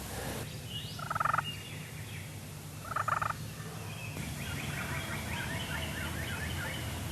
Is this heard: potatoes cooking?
no